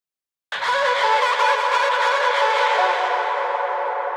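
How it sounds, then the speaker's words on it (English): Distorted, reverb-drenched vocal chops from a liquid drum and bass track swell in abruptly and hold as a dense, washy sustained tone that slowly fades, with no drums audible. "So the vocal chops have been distorted and drenched in reverb."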